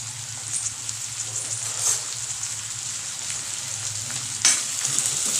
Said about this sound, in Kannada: ಎಣ್ಣೆಯಲ್ಲಿ ಈರುಳ್ಳಿ ಚೆನ್ನಾಗಿ ಬಾಡಬೇಕು